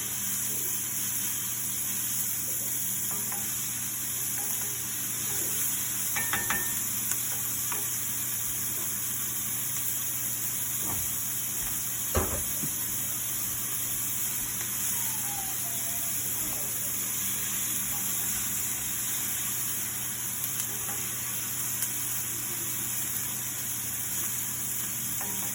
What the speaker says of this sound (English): the onions have been cooking for maybe 3 minutes